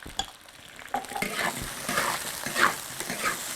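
Fennel seeds, garlic, Sichuan peppercorn and chili bean paste stir-fry in a wok, a crackling sizzle with scraping stirs in short rising bursts, close and moderately loud, no talking.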